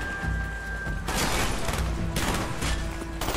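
Call of Duty: Black Ops in-game combat brings loud, close bursts of automatic gunfire, several dense volleys with short gaps between them, booming over a low hum of battle ambience and no speech.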